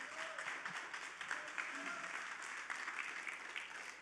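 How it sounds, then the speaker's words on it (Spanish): A church congregation applauds during a worship service, a steady dense wash of clapping that holds for the whole stretch at moderate level, with faint voices mixed in. "Dar un aplauso al Señor, claro."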